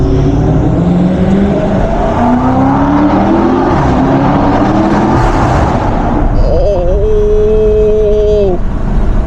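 A 640 hp BMW M550i under hard acceleration on a late-night drive, loud rising exhaust and engine roar through a long pull, followed by a shift and a steady drone at higher revs.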